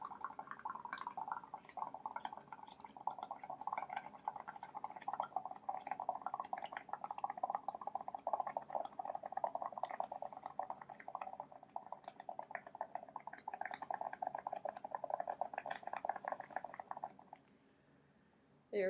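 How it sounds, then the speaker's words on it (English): Steady, dense bubbling and gurgling as air is blown into a cup of paint mixture until it overflows, continuing for about seventeen seconds before stopping abruptly. "And you're going to just blow like you were blowing milk bubbles, essentially."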